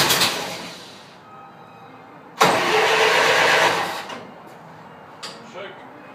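A Ford Model T engine turns over with the choke and throttle applied, giving a burst of loud cranking that fades, then a second longer burst and a brief later catch, while someone speaks nearby.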